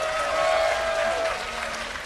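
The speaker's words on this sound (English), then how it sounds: "receive your round of applause from your appreciative fans" A dense wash of clapping from a crowd at a StarCraft esports tournament, steady and fairly loud for a couple of seconds, with a hint of voices mixed in.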